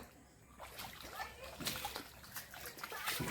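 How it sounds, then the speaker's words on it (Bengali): A pet splashes in floodwater beside a house, brief wet splashes and sloshing up close, while a voice speaks over the water. "দুষ্টু সোনাই জল থেকে উঠে এসো"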